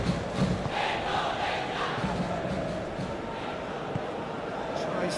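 A football stadium crowd at the Indonesia vs Guinea Olympic play-off for Paris 2024 roars steadily in a broad, continuous wash after some hard defending, with a commentator's voice running over it.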